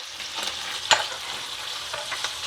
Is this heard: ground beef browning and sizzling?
yes